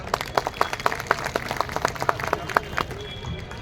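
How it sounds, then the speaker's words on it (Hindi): Scattered clapping from a crowd at a large Vishwakarma community rally stage, fairly sparse individual claps heard at moderate distance over steady background noise. "तालियों से स्वागत करें"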